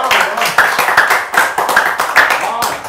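A small audience claps together to welcome a lecturer to a special talk, close and loud, the strokes falling in uneven rhythmic bursts with voices faintly mixed in.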